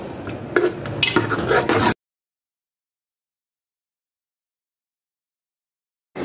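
Chicken stirred and sautéed in masala for a green bean (rawan ki phaliya) curry, with metal spoon clinks and scraping against the pan for about two seconds before the sound cuts out to silence.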